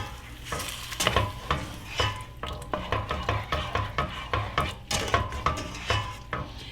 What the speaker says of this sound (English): Mix this up a little bit.